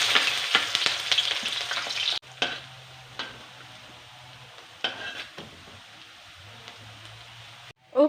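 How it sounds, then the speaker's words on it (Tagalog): Onions fry until brown for chicken biryani, first a loud, busy sizzle with stirring clatter, then it cuts to a quieter, intermittent crackle with occasional utensil taps, and a sharp clatter at the end. "habang hinihintay ko ang onion na mag-brown-brown kunti"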